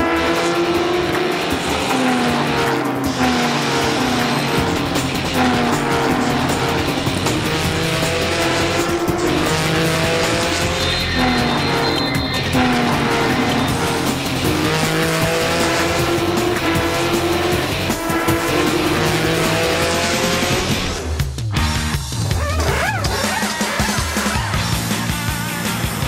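A race car drives hard around a track, its engine roaring continuously with gear changes and tire squeal throughout, loud and close for the whole stretch.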